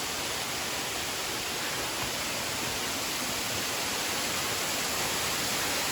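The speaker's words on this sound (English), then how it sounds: "Waterfall 2. Right there." A waterfall on the Fiery Gizzard Trail in South Cumberland State Park, Tennessee, roars in a steady, dense broadband rush that fills the whole six seconds without a break, close and even, with no voices.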